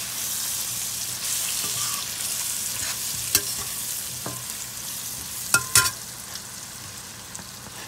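Shredded cabbage tossed into a hot pan and stir-fried, a steady sizzle under scraping stirs with a few sharp utensil clacks, close and alone.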